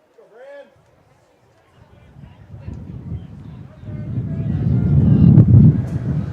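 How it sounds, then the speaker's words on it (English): Strong wind gust sweeping across an outdoor high school baseball game between Austin High and Bowie, building into a loud, low buffeting roar over the microphone while a commentator talks. "There's that wind again."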